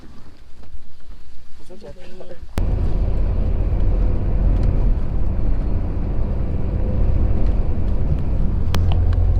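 Steady, loud low-end rumble inside an overnight bus travelling from Hoi An to Nha Trang, Vietnam, a continuous engine and road drone that swells abruptly after a quieter opening and runs on without a break.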